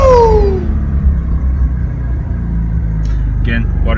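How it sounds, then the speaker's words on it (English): A Mazda RX-7 engine with newly finished exhaust idles up close, a steady, loud low rumble with pulsing tones, while a person talks over it. "right now, the car's running"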